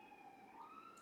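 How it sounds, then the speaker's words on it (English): A siren wails faintly in the distance, a sustained rising and falling tone over low background noise. "Sorry if you can hear these sirens going by."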